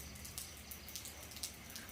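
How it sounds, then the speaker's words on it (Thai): Rain falls as a faint, steady hiss, with scattered drops ticking sharply on a nearby surface. "ฝนตกค่ะท่านผู้ชม"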